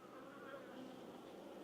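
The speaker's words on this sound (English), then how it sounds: "these are just the remnants of the old mean bees buzzing around my face" Bees from a hive in a bee yard buzzing close around the face, a continuous droning hum with wavering pitch, fairly faint and steady.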